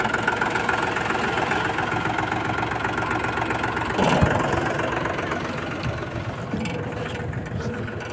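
A tractor engine idles loudly and steadily with a low chugging rumble, close by, and a brief clank partway through, while oil sprays out.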